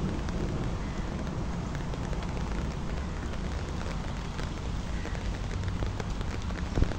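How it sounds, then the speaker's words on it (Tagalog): Steady rain falls outdoors as a dense, even hiss of drops striking surfaces. It stays constant and moderately loud throughout, with no voices. "Umuulan na guys, umuulan, tignan nyo."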